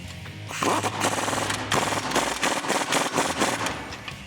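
Power drill boring a hole for a suspension bracket on a 1987-95 Jeep Wrangler YJ during a Rubicon Express lift install, a loud continuous rattling whir with pulsing bursts, close up and sustained throughout.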